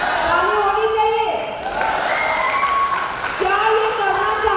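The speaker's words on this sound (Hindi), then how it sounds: "ताली होनी चाहिए।" Sustained audience applause fills a workshop hall, loud and steady clapping lasting several seconds, with a brief dip midway before swelling again.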